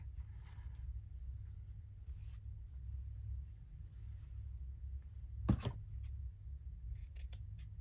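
A pair of scissors makes a single crisp snip through book page paper, close and brief against a quiet room with a low background rumble, followed by a few small handling clicks.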